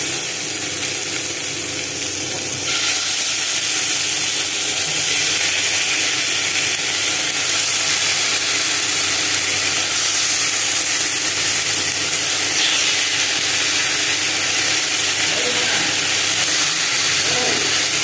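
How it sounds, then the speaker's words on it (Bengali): Marinated chicken fries in a kadai wok, giving a continuous broad, hissing sizzle that stays steady and fairly loud throughout, with faint voices now and then in the background. "তো প্রথমে একটু কড়াতে এরকম ভাজা ভাজা করে নেব"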